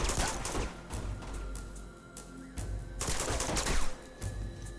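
Gunfire in Uncharted 2: Among Thieves, with two clusters of rattling automatic shots, fairly close, separated by a brief lull in a firefight with no talking.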